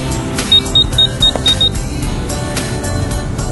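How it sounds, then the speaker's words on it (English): An op-amp mobile phone detector circuit sounds during an incoming phone call, giving a short series of about six bright, evenly spaced beeps over a steady background hum, close and clear. "The circuit it's producing a sound and the LED is blinking."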